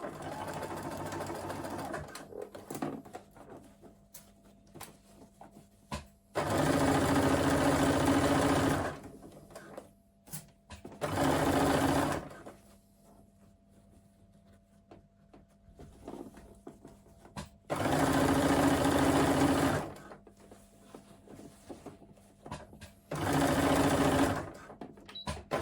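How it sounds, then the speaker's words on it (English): A sewing machine stitches a seam in a crossbody bag lining, running in four loud sustained bursts separated by quiet pauses while the fabric is adjusted. "So I've just sewn and reversed, finished off"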